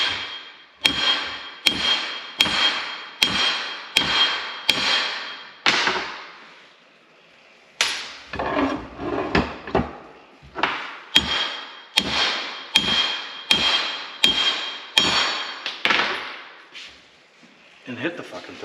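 A hammer strikes a truck U-joint clamped in a vise, a rapid series of sharp metallic blows in two bursts with a short pause between, loud and close.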